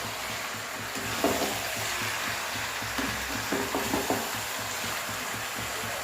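Chicken dopiaza with whole spices and Kashmiri red chilli is stirred in a pan, a steady sizzle with a few soft scraping strokes of the spoon, close by and with no talk.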